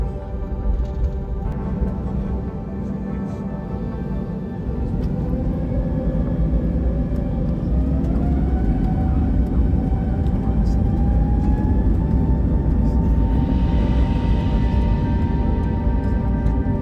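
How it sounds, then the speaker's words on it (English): A British Airways airliner takes off from London Heathrow on a domestic flight, its engines holding a steady, loud rumble with a slowly rising whine that builds through the roll and climb, heard from inside the cabin. "Taking off out of London Heathrow, we once again begin our 1 hour 40-minute flight back to Inverness in Scotland."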